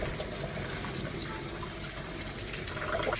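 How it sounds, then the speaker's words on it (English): Cold tap water running steadily over freshly boiled eggs in a kitchen, a continuous hiss and splash that stays even and fairly quiet throughout, with no talking. "I'm just gonna run some cold water over them to help them cool down before I shell them"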